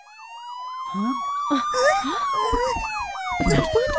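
An ambulance siren in the Upin Ipin animated series wails steadily and loudly throughout the clip, under brief children's voices.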